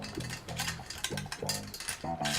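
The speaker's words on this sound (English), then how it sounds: "Now we're ready to put our new chain on. And we're just going to thread it right through the front derailleur." A new bicycle chain clatters and rattles as it is threaded through the front derailleur, close metallic clicking in short uneven bursts over a low background hum, with no speech.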